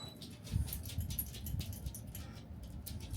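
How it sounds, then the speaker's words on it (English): A dog gives soft, thin whimpers and whines close by in a quiet room at night, faint and intermittent over low background noise. "That's my dog."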